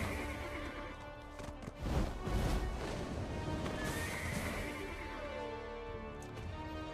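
Horse neighing in the online role-playing game Black Desert Online, a loud whinny followed by hoof clatter and snorting, close and prominent with no talking.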